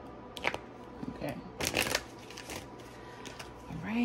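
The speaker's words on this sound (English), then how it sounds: "I'm going to try not to shuffle too loud in your ear." Tarot cards shuffled by hand, a few soft riffling bursts and rustles spread across a few seconds, close and fairly quiet, with no talking.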